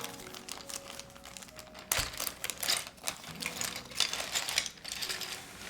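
Keycaps clattering and rattling as a Tiger Lite keyboard is taken apart, with dense plastic clicks and shuffling taps close up.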